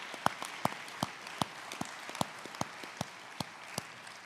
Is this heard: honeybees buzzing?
no